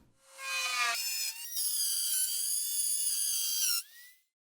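A Dremel rotary tool fitted with a straight router bit cuts a mortise into wood, giving a loud, steady high-pitched whine that shifts pitch as the bit loads and frees, then stops abruptly near the end.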